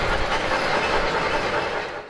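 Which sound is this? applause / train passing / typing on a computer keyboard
train passing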